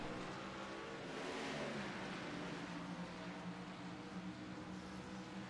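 Race cars drive at Circuit of the Americas, engines droning and shifting pitch as the field comes through, a continuous fairly distant roar without talk.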